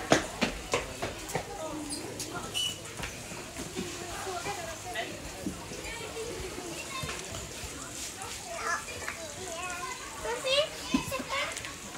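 Children play and chatter at a resort kids club in Årjäng, Sweden, with busy voices, occasional splashing and shuffling throughout, moderately close and lively, with adults talking among them.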